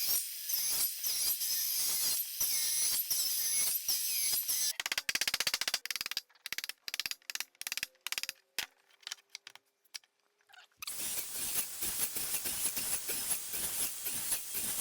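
A circular saw makes repeated plunging passes into a 2x4 on a jig, cutting a dado as a row of wafers; loud bursts of whining cuts broken by short pauses, then a long steady stretch of cutting.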